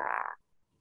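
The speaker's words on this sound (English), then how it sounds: "that is the sound of thousands of these Cape Fur seals" A single brief, raspy croaking call from a Cape fur seal colony on a foggy morning, one short burst that cuts off abruptly, followed by faint low rumbles.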